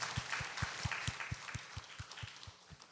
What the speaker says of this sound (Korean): 우리와 함께 하시는 하나님께 영광의 박수 올려드리겠습니다.